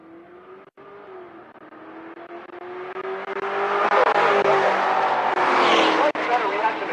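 Drag race cars, an LS-swapped Fox-body Mustang and a first-generation Camaro, roar loudly side by side down the strip, engines building steadily in pitch and volume as they accelerate.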